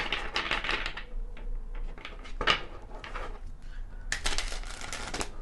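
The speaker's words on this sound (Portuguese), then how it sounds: "Vamos baralhar." Tarot cards being shuffled by hand at close range, with rapid riffling and flicking bursts separated by short pauses and a dense run of shuffling at the end.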